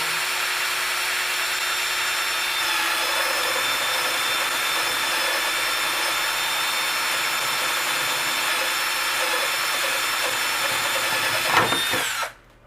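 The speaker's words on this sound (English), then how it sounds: "Let the drill do the work. Don't push too hard." A power drill bores into a metal ammo box, a loud sustained whining grind held steady for about twelve seconds before cutting off abruptly, with no voices.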